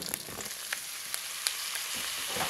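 Pork and sponge gourd sauté in a pan with garlic and onion, giving a steady close sizzle with light crackles and stirring taps.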